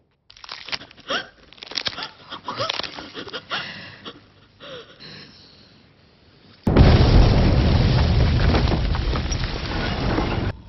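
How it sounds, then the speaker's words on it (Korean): In a film, a sudden explosion with heavy shaking erupts after a stretch of scattered clatter and knocks, bursting into a loud, dense roaring rumble that holds to the end. "갑자기 심한 진동과 함께 폭발음이 들리었고"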